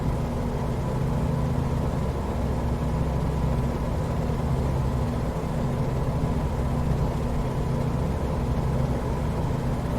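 A propeller aircraft engine in Microsoft Flight Simulator, flying near Dublin, Ireland, holds a steady loud droning hum with tonal low harmonics for ten seconds, a slight rise in pitch as the RPM is raised, no voices.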